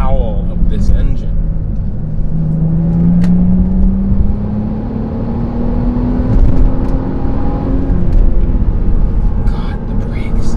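A Volvo S60 T6 R Design engine howls while being driven hard through corners, a steady rising drone with road and wind noise from inside the car, a driver talking over it.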